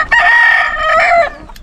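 A rooster crows in one long sustained call, loud and close outdoors near an onion plantation in the Pereira, Colombia countryside, with a quieter crow trailing at the end.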